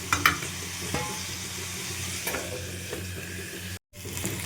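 Mixed vegetables fry in a kadai, a wok-style pan, with a steady close sizzle and the scrape of stirring throughout, briefly cut to silence near the end before the frying resumes.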